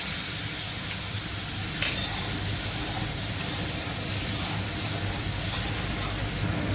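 Ginger and coriander powder frying in a pan for a pumpkin curry give a steady, close sizzle and hiss that runs unbroken throughout, with faint clicks of stirring and no talking.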